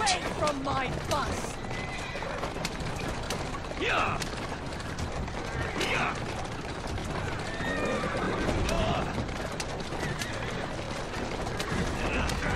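A horse-drawn carriage in Assassin's Creed Syndicate rolls along with clopping hooves, rattling wheels and creaking mechanisms, and horses neigh loudly a few times over the constant rumble while a person talks.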